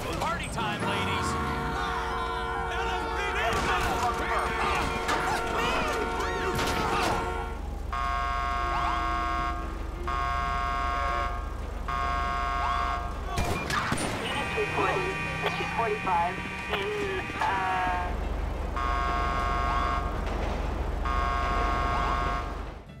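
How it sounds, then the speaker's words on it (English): In the GTA 5 video game, a police car horn drones on steadily after its driver slumps onto it, a constant tonal blare that runs unbroken through the scene amid gunfire-like cracks and game noise. "When you shoot the driver and they fall on their horn, the sound is completely different to the sound the car makes when honked in any other situation."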